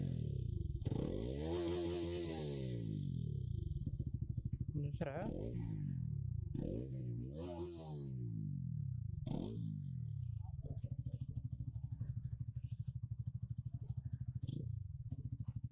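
A motorcycle with its silencer removed idles in neutral, its loud, throaty exhaust rising and falling through several revs before settling into a steady rumble, while someone talks over it.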